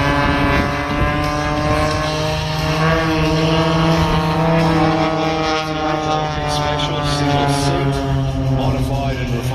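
A vintage propeller aircraft at the Warbirds Over Wanaka airshow drones loudly and steadily overhead, its rich harmonic engine note sustained throughout with a slight pitch drift as it flies by.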